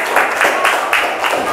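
Classroom applause for a group of pupils, a steady wash of clapping from a room of students with faint children's voices mixed in.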